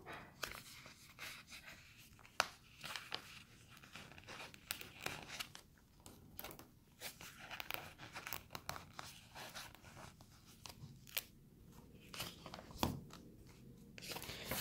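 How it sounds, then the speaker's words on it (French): Quiet crackling and rustling of a flower-necklace sticker peeled from a sheet and pressed onto a workbook page, with scattered small clicks and taps close up and no talk. "on va coller un sticker de collier de fleurs"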